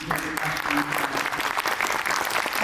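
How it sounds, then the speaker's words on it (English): A room full of people clapping, steady applause with no single voice standing out, close and evenly loud throughout. "if you guys could give them a round of applause"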